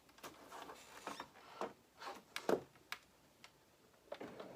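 A Cricut cutting machine loads a cutting mat, giving faint scattered mechanical ticks and clicks of rollers and gears at irregular intervals, quiet and close.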